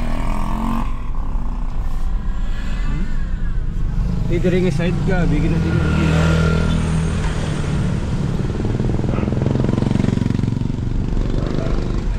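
Motorcycles roll along a flooded street in Bacolod City after a typhoon, engines droning and revving close by under continuous talk, with a dense wash of traffic and water noise throughout.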